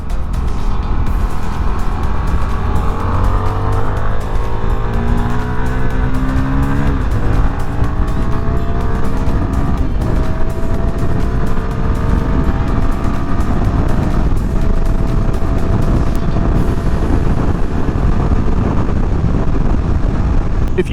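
A small-displacement naked motorcycle in sport mode circles a roundabout, its engine loud and close, revving up and easing off in rising and falling sweeps under constant wind buffeting.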